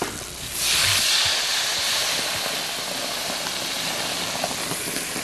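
Pinot Noir wine is poured into a hot pan of browning leeks, setting off a sudden loud sizzle and hiss that surges up, then settles into a steady crackling simmer.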